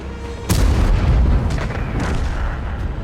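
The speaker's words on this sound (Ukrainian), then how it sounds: "Отут відпетляв від пострілу артилерії" An artillery shell slams down in a World of Tanks battle with one heavy, booming impact near the start, followed by lingering rumble and smaller crashes.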